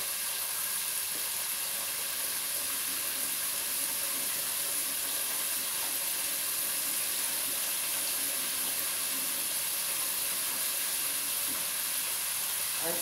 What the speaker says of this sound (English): I got grease popping in here.